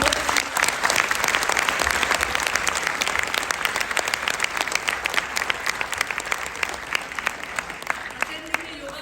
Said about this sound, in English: Let us give a big round of applause to both of you.